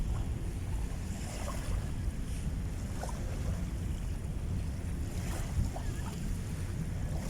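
Waves wash steadily onto the dolomite-sand shore of the Manila Bay beach, a continuous low rumbling surf mixed with wind buffeting the microphone.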